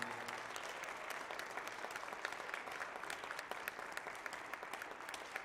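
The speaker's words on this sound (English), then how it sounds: "Let's give him a special round of applause, shall we?" An audience at a jazz ensemble concert applauds steadily, a dense wash of many hands clapping at even loudness for the whole stretch, with no voices rising above it.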